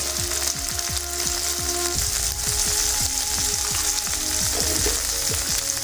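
Chopped vegetables sizzle steadily in a hot pan for a Bengali lentil soup, with a continuous bright crackle and repeated small clicks of spatter or utensil taps, close and loud, with no one talking.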